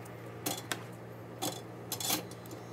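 A knife spreads peanut butter onto Nature's Own bread with a few quiet, brief scrapes and clicks of the blade against the slice, spaced irregularly over a faint background hum.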